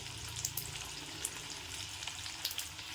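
Chana dal, urad dal and cumin fry in hot oil with a continuous close sizzle and scattered sharp crackles and spits throughout.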